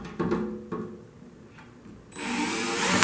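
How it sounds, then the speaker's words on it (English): A drill with a 1/8 inch bit bores a small pilot hole straight down through a puck during an install, a few short taps before the motor spins up into a loud, rising whine near the end. "just drill a little pilot hole straight down and through"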